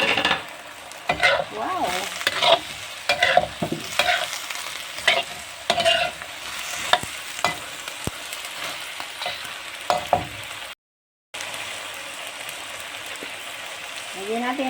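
Potatoes and a chopped onion fry in a pan with steady sizzling crackle and scraping stirs, loud and close, while a person speaks briefly over it.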